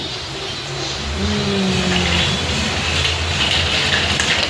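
A tractor engine drones steadily at close range, rising slightly in strength, with a low throbbing tone under broadband road noise.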